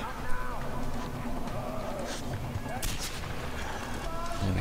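Gunfire in the Far Cry 4 DLC video game, heard as a few sharp shots over a busy, dense bed of game action and ambient noise.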